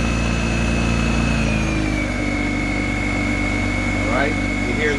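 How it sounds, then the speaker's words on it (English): Toro 60V lithium-ion 21-inch snowblower running in eco mode in wet snow, a steady battery-motor hum with a sustained tone that drops in pitch as the speed slows, loud and close. "now I'm going to switch over to eco mode."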